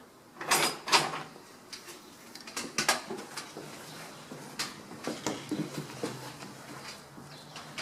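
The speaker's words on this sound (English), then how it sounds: "pull the door open, with one hand, push it open" A school's main entry door is pulled open and pushed, giving close, irregular clunks, latch clicks and rattles, with a few sharp knocks and quieter handling noises between them.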